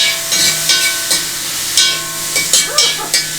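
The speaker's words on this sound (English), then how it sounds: "There is no better sound when you're cooking than that sizzle." Teriyaki sauce hits a hot pan for fried rice and sizzles and hisses steadily up close, with short bursts of crackle and steam rising and falling.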